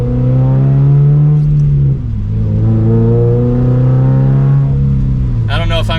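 Toyota GR86 engine fitted with an aftermarket exhaust, a steady low idle drone held throughout with a slight dip in the middle, close and fairly loud, with a brief higher burst near the end.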